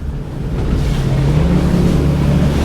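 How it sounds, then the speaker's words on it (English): An Axopar 28 Cabin boat powering back up to planing speed, its engine note rising and steadying over loud rushing water and wind noise close by. "We're just going to run the boat back up to planing speed again"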